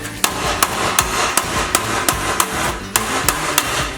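A metalworking hammer strikes a sheet metal panel during hand shaping for a Ford RS200 body, about ten sharp ringing blows at a steady, unhurried rhythm, close and clear with no voices.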